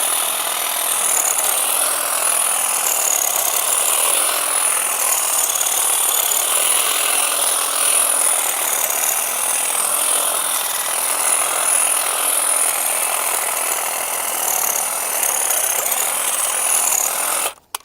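A Webb ECO 20V cordless battery hedge trimmer cuts through thick branches and dead wood: a loud, steady buzzing and chattering of blades with no talk, running continuously before cutting off abruptly at the end.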